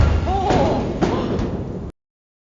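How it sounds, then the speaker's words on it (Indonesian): A sealed door in a secret room is kicked open: a few heavy thuds and slams over about two seconds, close and fairly loud, with a voice faintly under them. "satu tendangan saja cukup untuk membuka dan menyikap ruang rahasia lain"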